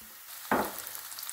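Porcini mushrooms with fried onion hit a hot frying pan with a sudden loud sizzle that then settles into a steady, fainter frying crackle, with no talking.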